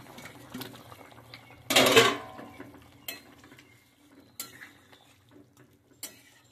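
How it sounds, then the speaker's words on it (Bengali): Jiyal (stinging catfish) going into a boiling potato and papaya curry, one loud splash and clatter in a pot followed by a few lighter clinks of utensils against metal, close with no voices. "এবার আমি জিয়াল মাছগুলো ঝোলের মধ্যে ছেড়ে দিচ্ছি।"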